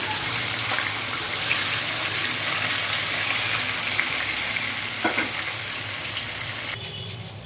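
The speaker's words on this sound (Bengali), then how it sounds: "দুইটা করে ভেজে নিচ্ছি, কারণ দুইটা করে ভাজলে ভাজা হবে ভালো।" Two fish fry in hot oil in a pan, giving a loud, dense, continuous sizzle with faint crackles. The sizzle stays steady and dips slightly near the end, with no one talking.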